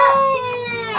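A barred Plymouth Rock rooster of the Thompson variety gives a short, loud, close crow that lasts about a second and stands alone.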